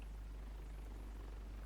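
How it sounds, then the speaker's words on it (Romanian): A helicopter in the video game The Division 2 gives off a steady, low, droning rotor rumble with no talking over it. "Mamă, ăsta e elicopterul ăla șmecher care..."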